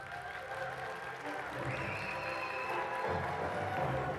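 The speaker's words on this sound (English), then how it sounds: "A warm round of applause, please, for Mr. Andrei Stänescu." An audience claps steadily to welcome a speaker at a tech event in Bucharest, producing a dense, sustained round of applause from a sizeable crowd that continues throughout.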